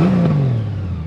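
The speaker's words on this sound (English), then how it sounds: "it's got that typical Goldwing exhaust note on it" A 2021 Honda Goldwing motorcycle idles and revs close by, its steady low exhaust note sliding slightly downward in pitch over about a second, loud and heard alone.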